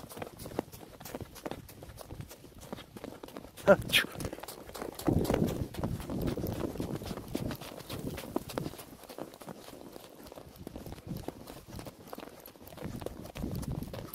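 A ridden horse's hooves clop unevenly on a rough path through gullies, fairly close, with a louder stretch in the middle while a rider talks.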